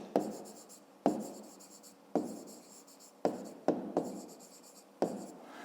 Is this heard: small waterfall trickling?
no